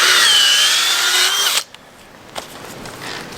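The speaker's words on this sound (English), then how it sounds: "So I put 4 holes into the base." A power drill bores injection holes into the base of a hemlock tree outdoors. A loud, steady whine runs for about a second and a half, then stops abruptly, leaving quiet surroundings.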